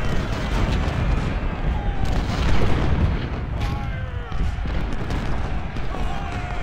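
Cannon fire in the video game Ultimate General: Civil War, a steady rumble of overlapping artillery booms and battle noise that fills the whole stretch, with a voice talking over it.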